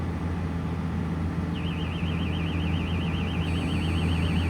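A machine alarm beeps with a steady warbling electronic tone over the constant low rumble of running farm machinery with its PTO engaged, the tone entering partway through and continuing close and steady to the end.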